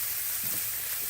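Pork tenderloin sizzles in a hot pan, a bright, steady hiss of frying that runs continuously and fairly close, with no voices over it.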